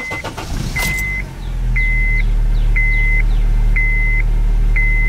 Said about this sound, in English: now I'm going to start her up.